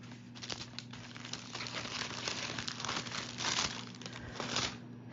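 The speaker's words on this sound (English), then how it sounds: "so I'm gonna pull out this page, or this one that we had already cut off of" A paper page pulled from a craft kit, giving soft continuous crinkling and rustling over about five seconds, fairly quiet and close, with a low steady hum beneath and no speech.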